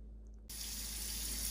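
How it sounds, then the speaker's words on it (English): Warm tap water running into a sink while hands are washed clean of oobleck, a sudden steady hiss and splash starting after a short quiet moment and continuing evenly. "All I have to do is put them under some warm water and clean they will be."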